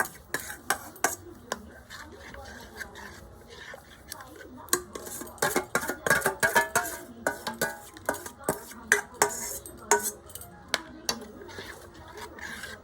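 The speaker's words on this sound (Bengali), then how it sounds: "দইটাকে দুধের মধ্যে দিয়ে খুব ভালোভাবে মিশিয়ে নেবো" A utensil clinks and scrapes against a steel pot while yogurt is stirred into milk, irregular taps quickening into a dense run of knocks midway, close and fairly quiet.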